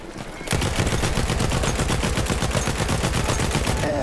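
Sustained rapid gunfire rattles continuously, dense and loud, like automatic weapons firing nonstop, in a Battlefield 1 Conquest match.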